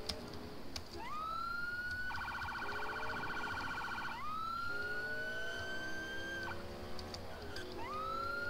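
A police siren in a Grand Theft Auto San Andreas police mod, modeled on Rio Grande do Sul military police, wails and rises, switching to a rapid warbling yelp, then back to a rising wail, loud and continuous.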